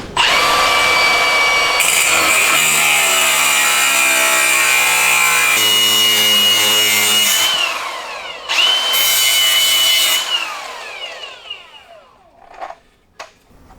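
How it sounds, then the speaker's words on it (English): An abrasive cut-off wheel slices through metal during a WiseFab install on an EcoBoost Mustang S550, a loud steady whine with sweeping tones that drops out briefly, resumes, then winds down near the end. "Here, cut off wheel. Give her a little cut,"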